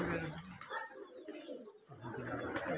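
A loft of Giribaz tumbler pigeons in Rajshahi gives off dense, overlapping cooing at close range, a constant soft warble with scattered sharper sounds and faint voices mixed in.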